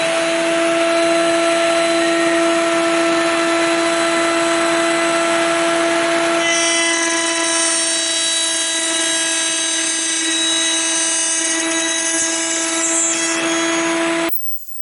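Router table cutting box joints in wood pieces with a box joint jig, a loud steady high-pitched motor whine that shifts pitch partway through as the cutter engages, ending abruptly, with no speech.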